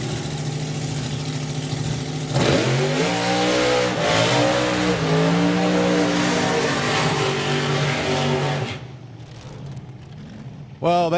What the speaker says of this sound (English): John Willard doing his first burnout here at SantaPod Raceway